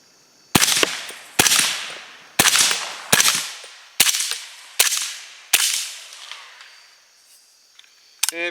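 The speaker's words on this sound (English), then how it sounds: "Let's just shoot them all, see if we can get through the mag without the stupid gun jamming." Seven sharp, loud rifle shots from a 300 Blackout loaded with cotton-filled cases, fired at irregular intervals of under a second each, every crack trailing off in a ringing echo before the next.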